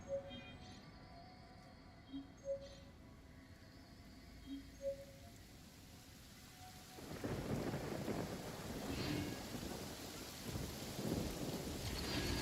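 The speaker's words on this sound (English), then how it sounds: "I like the rain." In the video game Genshin Impact, soft raindrops tick over a quiet background, then a heavy wash of rain and rolling thunder swells in and keeps going.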